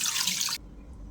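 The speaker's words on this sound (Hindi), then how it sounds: "एमे डाल दें थोड़ा सा पानी" Water is poured into a pressure cooker holding jackfruit pieces, a brief bright splashing gush lasting about half a second that stops abruptly, leaving a quiet low hum.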